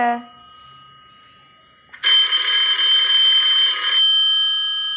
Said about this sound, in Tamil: என்னங்க ஃபோன் அடிக்குது, ஃபோன் எடுங்க.